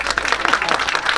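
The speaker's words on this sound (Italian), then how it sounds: "qui ci sta un altro applauso" A brief burst of audience applause at the inauguration of a rainbow bench in Tropea, a dense patter of many hands clapping at once, steady and moderately loud.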